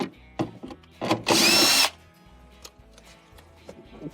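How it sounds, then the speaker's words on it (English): Power drill briefly whirring to remove a refrigerator cover screw, a short loud burst amid close clicks and handling noise, otherwise quiet. "And then remove the 2 screws"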